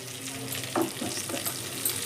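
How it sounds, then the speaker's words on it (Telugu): White brinjal with garlic and coconut masala is stirred in a hot pan, giving a steady soft sizzle with a few brief scraping stir strokes, close and alone. "తెల్ల వంకాయల వెల్లుల్లి కొబ్బరి కారం మంచిగా ఇలా కలిపేస్తూ ఉంటే సరిపోతుంది"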